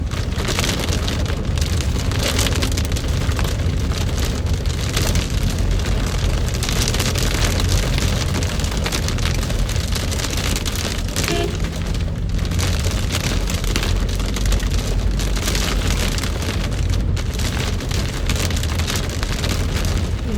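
Heavy rain pouring down in Jeddah, a dense, constant hiss of drops hitting surfaces throughout, loud and unbroken, with no talking.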